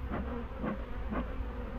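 Honey bees buzz at an open hive where a ball of bees has gathered, a steady close drone rising in three soft pulses with no voices.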